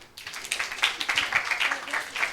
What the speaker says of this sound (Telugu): మీరు చప్పట్లు కొట్టాలా?